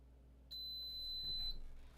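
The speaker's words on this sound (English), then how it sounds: "And this will beep at us." A heat press gives one long, steady, shrill electronic beep lasting about a second while fabric is pressed. It sounds clear and close over low room hum, with no talking.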